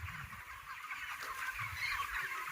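Several chickens cluck and murmur nearby at feeding time in a busy, continuous flock chatter, with no talking.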